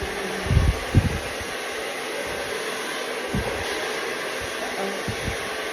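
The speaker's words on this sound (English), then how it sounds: "the blow dryer is going" A blow dryer runs steadily with a broad, constant whoosh, a few brief low thumps and knocks popping up over the hum.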